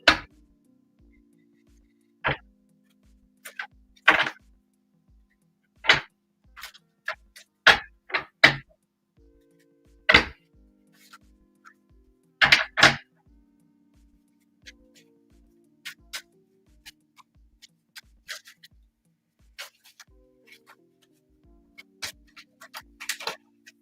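Tarot cards being shuffled by hand, a series of sharp, separate riffling taps and soft snaps at an irregular rhythm, close and fairly quiet, with faint low hum between them and no talking.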